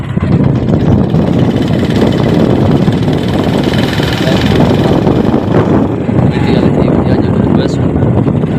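A motorcycle engine runs steadily up close, a loud, unbroken rumbling drone with wind buffeting the microphone throughout.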